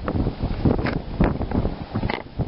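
Wind gusting across the roof of an RV during a repair, buffeting the microphone in loud, uneven rushes and thumps for a few seconds with no talk.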